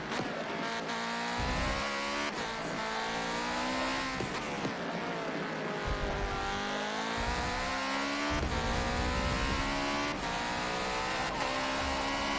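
A race car engine in Forza Motorsport 7 drones at high revs, its pitch rising and dipping as it momentarily cuts out and stutters, with tire noise and no voices over a steady, loud twelve seconds.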